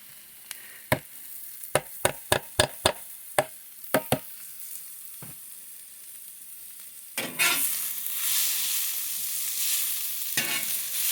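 Sharp knocks and taps ring out one by one on a griddle where ribeyes are cooking, then mushrooms land on top of the steaks and a loud, bright sizzle rises and holds steady.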